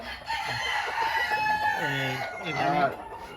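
Bantam chickens cluck and chatter close by while a rooster lets out a crow toward the end, set against a steady background hiss of a farmyard.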